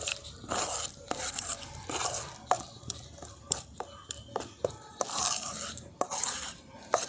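Grated carrot is worked into an eggless cake batter of flour, oil and milk, giving quiet, irregular scrapes and soft taps of a utensil against the bowl.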